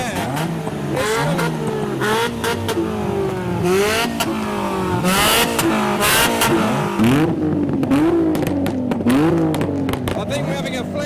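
Two cars trade loud, close revs in a rev battle, one of them a Subaru fitted with a 2JZ engine, their engine notes repeatedly rising and falling amid sharp pops, with people talking and cheering throughout.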